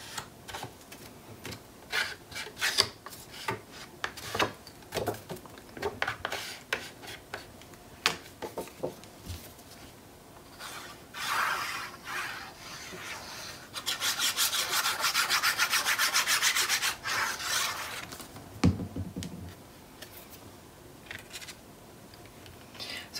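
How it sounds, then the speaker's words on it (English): An ink pad is rubbed and dabbed over a paper panel in a papercraft album project, giving close, scratchy strokes in irregular bursts that swell into a steadier rasp near the middle. "And ink on our panel."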